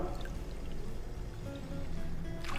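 Water poured into flour to hydrate it in a kitchen, a soft, quiet trickling pour that runs steadily for a couple of seconds with faint splashes, heard alone.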